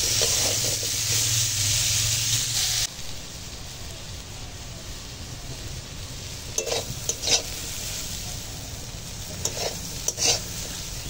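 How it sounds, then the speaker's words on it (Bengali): Pumpkin fries in a hot pan over a dried red chili tempering, hissing loudly at first. The sizzle then settles to a softer, steady crackle with occasional close stirring clatters. "এখন এই শুকনো লঙ্কার ফোড়নে মিষ্টি কুমড়োটা রান্না করব।"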